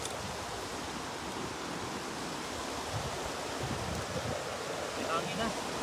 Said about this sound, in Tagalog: Hangin na.